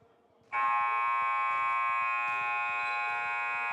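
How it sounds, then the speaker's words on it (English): A long, loud electronic end-of-quarter buzzer at a basketball league game cuts in abruptly over faint crowd noise and holds steady for several seconds. "That is the buzzer for the first."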